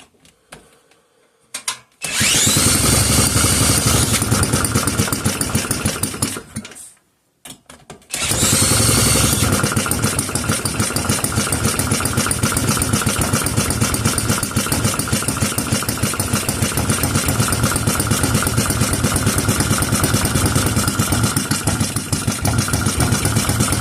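A Clinton model 350 small engine sputters to life after a couple of false starts, then idles slowly and steadily, loud and close, with individual firing pulses almost countable and no voices.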